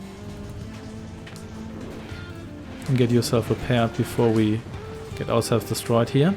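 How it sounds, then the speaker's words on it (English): Heavy rain patters steadily in the background, a soft continuous hiss beneath a voice talking over game sounds. "If you hear something in the background, it's just some heavy rain here."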